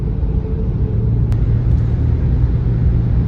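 A car drives through a single-lane road tunnel on the road from Makkah to Abha, giving a steady, loud, enclosed low rumble of engine and tyres with no voices.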